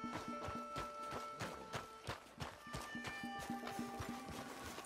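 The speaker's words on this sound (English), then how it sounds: "I got the horses." Horses in the video game Red Dead Redemption 2 clip-clop in a brisk, even rhythm with an occasional whinny, faint and steady throughout with no speech over it.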